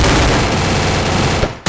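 Gunfire in a first-person shooter custom match: a sustained, loud rapid-fire volley that continues almost without a break before stopping abruptly.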